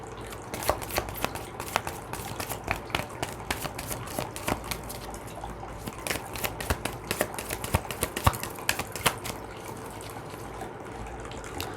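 A deck of oracle cards being shuffled in a steady run of soft, rapid riffling clicks, close by and alone, with no talk over it.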